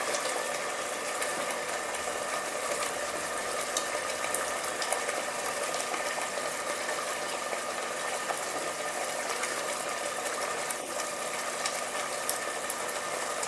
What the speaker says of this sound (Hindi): अब इसमें बॉईल आ गया है तो मैं इसमें अपनी घी डाल रहा हूँ